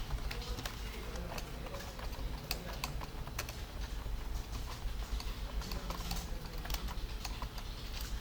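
Computer keyboard typing while JavaScript code is written out, a steady run of quick key clicks under a constant background hum, with faint talk in the background.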